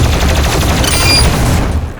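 Plasma rifle fire in DOOM Eternal, a loud continuous rapid stream of energy shots pulsing steadily for about two seconds with a brief bright whine in the middle.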